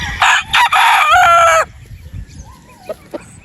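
A pure gray rooster crossed with Sweater Boston crows once, loud and close, a harsh drawn-out call lasting about a second and a half, followed by a few soft clucks and faint farmyard noise.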